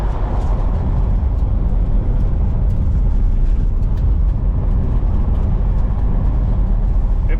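1968 Chrysler Imperial with a 440 engine cruising about 50 mph on a gravel road on worn tires: a loud, steady interior roar of engine and tire rumble with faint gravel crackle, no talk.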